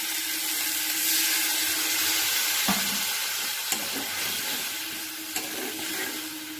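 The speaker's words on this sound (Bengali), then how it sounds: "এবার আমি এখানে জল অ্যাড করে দিচ্ছি। ঝোলের জন্য পরিমাণ মতো জল অ্যাড করে দেব।" Water is added to a thick sautéed curry in a hot pan, giving a loud continuous hiss and sizzle with a few faint clinks and splashes. No one speaks.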